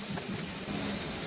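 Green and red chillies, halved, sizzle in hot oil in a pan, a close, steady crackling hiss that runs unbroken through the short moment.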